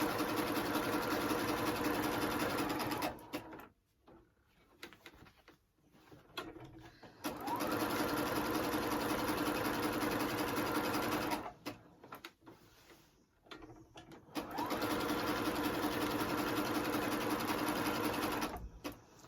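A sewing machine stitches a large 90 by 90 quilt, run with a knee lift, in three long steady bursts of motor whir separated by short pauses with quieter handling sounds.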